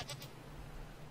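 A single goat bleats in Minecraft with the FTB Legend of the Eyes modpack, two short bleats close together at the start over steady game ambience, with no talking.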